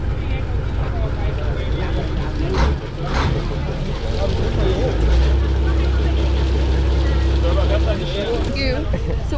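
Continuous low drone of a ferry engine running on a boat to Koh Samui, Thailand, with people talking over it and occasional clatter nearby.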